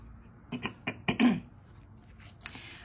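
Someone close by clears their throat in a few rough, raspy bursts, then it goes quiet.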